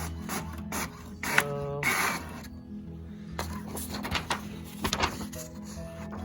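An HP OfficeJet Pro 8710 printer prints a streaky page, with whirring feed motors, mechanical clicks and shuttling print-head passes in a stop-start pattern, close and moderately loud.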